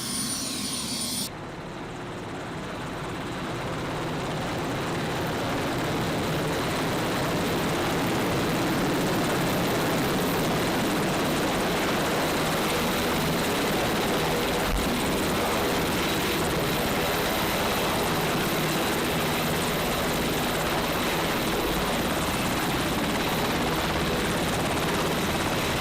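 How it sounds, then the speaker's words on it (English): A helicopter flies steadily at a helicopter industry event, its loud continuous rotor and turbine roar rising in the first seconds and then holding strong and close for the full length, alone with no talk. "Yeah, a pure helicopter."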